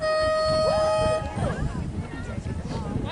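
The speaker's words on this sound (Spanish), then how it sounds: "Tiene que darle a la bocina y ya está" Loud, steady horn blast with strong harmonic tones marking the start of a semifinal llaüt rowing regatta race in Deltebre, lasting about a second before cutting off into outdoor crowd noise and voices.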